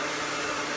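A hair blow dryer runs steadily while drying and smoothing hair with a brush, a constant close whooshing hum with no voices.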